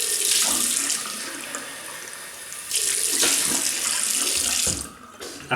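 Tap water runs steadily into a sink as a Parker 22R double-edge safety razor is rinsed, with brief swishing surges and a quieter dip near the end, heard alone without talk.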